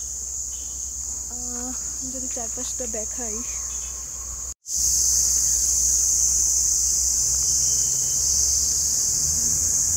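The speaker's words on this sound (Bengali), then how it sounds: "শুধুই ঝিঝি পোকার ডাক শোনা যাচ্ছে," Crickets in dense forest beside a paved road near Mcleodganj give a loud, continuous high-pitched trill throughout, with a person talking briefly over it early on before the chirring carries on alone.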